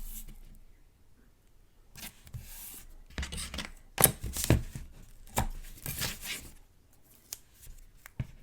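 Paper being taped and trimmed for a mini album pocket, heard as scattered close scraping, snipping and tearing sounds in short irregular bursts, fairly quiet, with no talking.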